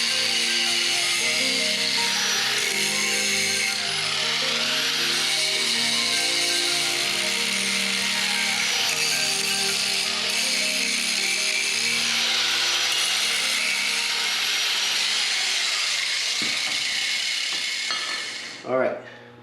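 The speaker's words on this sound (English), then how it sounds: "I'm just going to grind it down," A handheld grinder works over a fully welded metal joint during an LS engine swap, a loud continuous abrasive whir and rasp that holds steady for most of the time before winding down with a final knock near the end.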